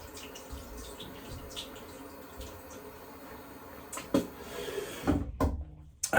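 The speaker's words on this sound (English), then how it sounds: "I'm just gonna go quick rinse again." Running water from a bathroom tap, used for a rinse after a shave, flows steadily at a modest distance, ending with a few clattering knocks and splashes near the close.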